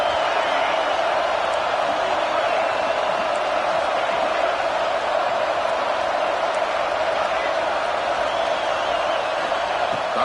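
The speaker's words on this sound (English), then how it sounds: "Listen to the crowd energy here in the early going." A stadium crowd roars steadily at a Nebraska football game against Washington, a dense, continuous wash of cheering that stays loud and unbroken.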